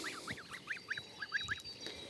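Geese on a small farm honk in a quick run of nasal calls, about ten short honks in a loose rhythm, close and moderately loud with no talking.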